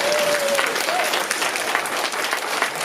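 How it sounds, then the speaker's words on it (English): A crowd at a church gathering claps for the Lord in a full, sustained round of applause, and a voice briefly whoops over the clapping early on. "clap for the Lord"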